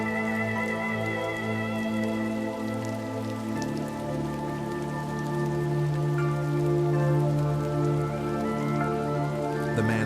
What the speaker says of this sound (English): the sound of the rain to drift in now